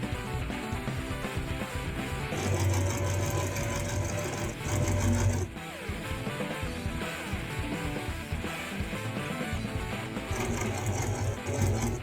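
A sewing machine fitted with a walking foot stitches a cosplay costume, running steadily for several seconds in a close, continuous mechanical chatter with faster bursts and brief pauses, and no voices.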